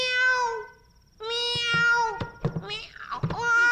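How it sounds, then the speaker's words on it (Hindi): A cat meows several times indoors, close and clear, with drawn-out, wavering cries broken by a short pause and then a longer run of insistent calls. "बिल्ली है क्या?"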